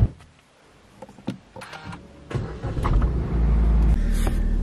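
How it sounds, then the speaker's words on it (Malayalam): A parked car is started and left idling to keep its battery charged: scattered clicks and knocks come first, then the engine catches and settles into a steady, loud, low idle rumble that continues to the end. "അപ്പൊ വണ്ടി കുറച്ചൊക്കെ സ്റ്റാർട്ടാക്കി ഇടാൻ കേട്ടോ"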